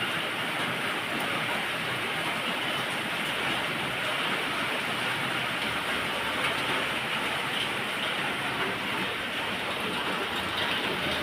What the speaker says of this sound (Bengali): শুরু হয়ে গেছে বৃষ্টি।